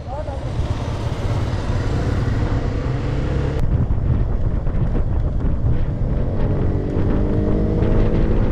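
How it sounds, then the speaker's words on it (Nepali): Wind buffets the microphone while riding along a road with blind curves, a loud, constant rushing roar over a low engine drone, with a voice speaking through it. "हावा कति छ"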